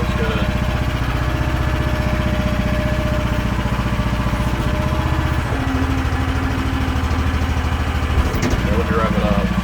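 The diesel engine of an AGT QH13R Chinese mini excavator runs loud and close with a steady throbbing drone while its blade pushes gravel back and forth. A faint voice can be heard under the machine.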